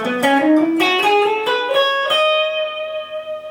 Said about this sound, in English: So right now I'm going to play the Lydian scale for you